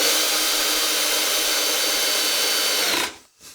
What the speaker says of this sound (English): I'll use a couple of screws on each side to hold everything together while the glue dries.